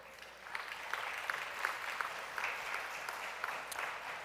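Quiet applause from a conference audience during a panel event on international students, a brief steady patter of many hands clapping at a distance, fairly faint and even throughout.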